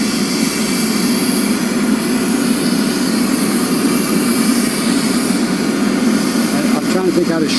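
A jet airplane's engines run nearby as a steady, loud roar, with people talking faintly underneath throughout.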